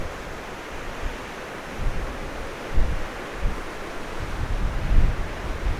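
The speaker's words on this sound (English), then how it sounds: "The wind is coming straight at me" Strong wind blows over a lake in Nova Scotia, Canada, a steady roar of buffeting microphone rumble with gusts swelling and fading, no voices.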